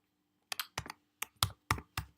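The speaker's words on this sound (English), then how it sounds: "and I'm going to type in" Someone types on a computer keyboard in a quiet room, a handful of crisp, close keystrokes after a short silence, irregularly spaced and clear.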